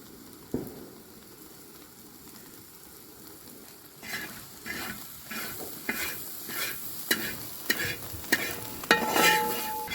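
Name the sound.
soya chunks frying in coconut oil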